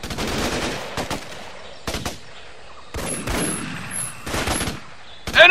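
Automatic rifle fire in the Xbox 360 shooter Raven Squad arrives in several sharp, rapid bursts separated by short pauses, with a louder crack at the very end.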